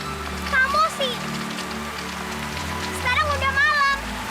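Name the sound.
rain falling at night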